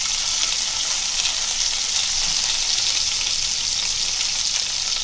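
Ginger and garlic frying in hot ghee with curry leaves in a pan, giving a steady, close, even sizzle with fine crackling throughout and no talking.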